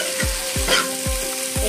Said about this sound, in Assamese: এইখিনিটা ধুনীয়াকৈ ভাজি ল'ম